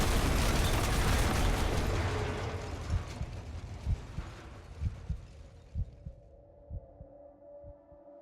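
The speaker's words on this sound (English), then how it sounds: "Massive explosion detected by Hannibal 3 spy satellite in the vicinity of classified Armacam facility moments before signal was lost." A massive explosion in the video game F.E.A.R. roars loud and broad at first, then decays into a rumbling tail with a series of deep, regular thuds pulsing beneath it as the blast fades.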